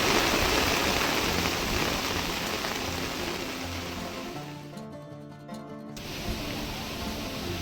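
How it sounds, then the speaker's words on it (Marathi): Heavy monsoon rain pours over a rice field, a dense, steady hiss that fills the scene, briefly thinning for about a second before returning at full strength. "पाऊस असा आलाय ना"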